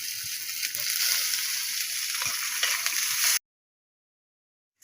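Egg and chopped onion sizzling and frying in a pan, a steady loud hiss for about three and a half seconds before cutting to silence.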